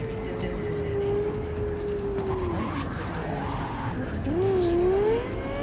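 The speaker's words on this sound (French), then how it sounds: "mais elle patine de ouf la caisse" Tires of a car skidding and squealing in the video game Cyberpunk 2077, a wavering high whine over a steady engine drone that swells toward the end, with game noise underneath.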